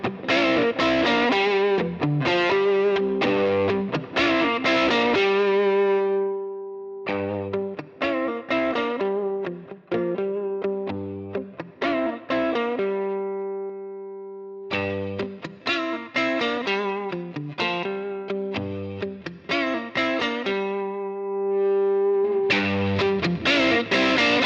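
An electric guitar plays through a Halcyon Gold Overdrive pedal with the drive set high: chords strummed in bursts with distorted, harmonically rich sustain, pausing between phrases, played alone without talk.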